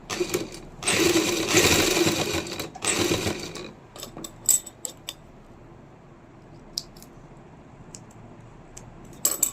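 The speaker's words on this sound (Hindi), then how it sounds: "अब इसके ऊपर डबल सिलाई करती हूँ।" Sewing machine double-stitching a kameez seam, two loud bursts of rapid whirring stitching, then scattered clicks and small handling taps in a quiet room.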